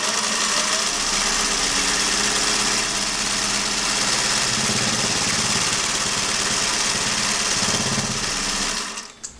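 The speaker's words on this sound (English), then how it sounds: "All you have to do, literally, is just push the button down and let her eat." A late-1950s Singer 401a sewing machine stitches a zig zag satin buttonhole, a steady, fast, close whirring hum with rapid needle chatter running continuously before stopping abruptly near the end.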